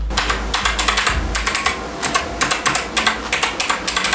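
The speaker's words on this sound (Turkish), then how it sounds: "Çok beğendiğim bir klavyem ama şu sesine bakın." Gaming mechanical keyboard switches clack in quick, uneven bursts of typing, crisp and close, with short pauses between runs of keystrokes.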